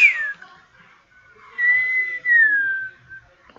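A person whistles a few sliding notes, the first short and falling, then a longer held tone that bends down, loud and close with brief pauses and no talk.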